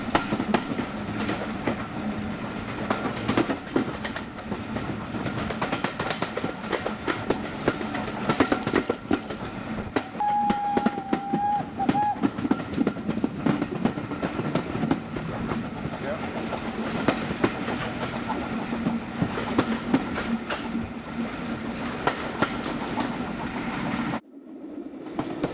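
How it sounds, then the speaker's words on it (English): A Great Central Railway train approaching Rothley rolls steadily along the track with a rhythmic clickety-clack and engine rumble, a brief whistle partway through, before the sound cuts out near the end. "As the train approaches Rothley, you'll notice that here too they have workshop"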